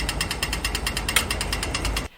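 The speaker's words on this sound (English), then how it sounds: "When you can cross, it becomes the little green man, and the buzzer sounds like this." An Australian pedestrian crossing buzzer signals walk with a rapid, steady train of ticking pulses over low street traffic rumble, close and continuous before cutting off abruptly.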